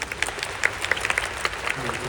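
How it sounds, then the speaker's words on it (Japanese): Concert audience applause for a K-pop group in Yokohama, a light, scattered clatter of clapping with sharp individual claps standing out, mixed with faint crowd voices. "박수 한 번만 부탁드리겠습니다"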